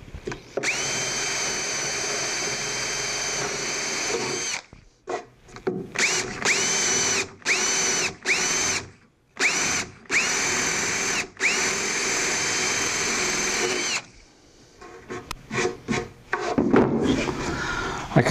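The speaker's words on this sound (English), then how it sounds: "I have 3 well-marked spots for all my drilling to go, and I'll do that next. Just using a 1/4 inch brad point bit." A power drill with a 1/4 inch brad point bit bores holes in wood for a router table, running in several sustained bursts with short pauses between them, loud and close.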